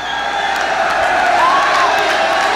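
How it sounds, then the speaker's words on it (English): A crowd at a high school event for President Reagan, Gordon Technical High School, roars in a loud, steady, sustained cheer that fills the whole clip. "We want him to hear the Reagan cheer the way we did it before."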